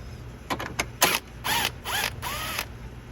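A 10mm ratchet wrench loosens a nut on an engine hold-down bracket of a Honda or Acura vehicle, giving a few quick clicks followed by several longer ratcheting bursts, close and without speech.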